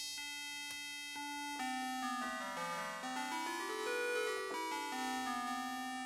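A quiet synthesizer tone with bright, ringing overtones sweeps slowly down and back up in pitch, sounding thin and resonant.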